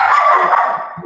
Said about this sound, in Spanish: yo tengo 6 perras, así que esto es caótico a veces, para como caniches, bochincheras tremendas.